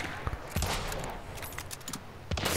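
Rapid bursts of gunfire in the game Hunt: Showdown crackle in quick volleys, sharp and close, with brief pauses between the strings of shots.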